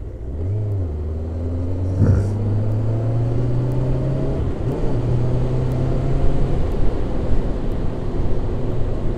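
A motorcycle engine with suspected carburetor trouble drones unevenly under load, its pitch wavering and lurching rather than climbing cleanly, heard steadily and fairly near throughout.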